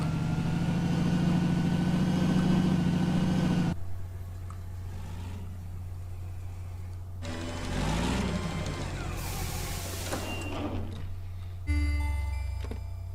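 A weak, underpowered vehicle engine in the SCP Secret Files video game drones and strains in a steady tone, cuts out, then comes back in rougher surges alongside mechanical clanks and beeps.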